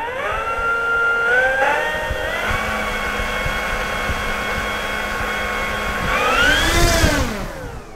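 An E-flite Smart Mustang RC plane's electric motor and propeller spool up into a steady high whine, holding for several seconds before surging louder near the end, with no talk over it.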